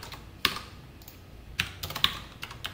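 Computer keyboard keys tapped while writing SQL queries, a few sharp isolated clicks spaced irregularly with short quiet gaps between them, close and fairly soft.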